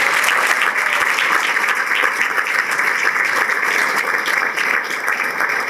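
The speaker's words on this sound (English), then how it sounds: "receive a round of applause for DPD in the" An audience gives a sustained round of applause for Chicago's planning department staff, a thick, even wash of many hands clapping throughout the room without letup.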